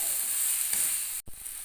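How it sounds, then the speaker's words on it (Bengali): Masala for a soybean and potato curry sizzles steadily in a pan over a medium flame. The sizzle is briefly cut off near the end, then resumes. "সমস্ত কিছু মশলা দিয়ে দেওয়ার পরে এবার আবারও ভালো করে কষাতে হবে"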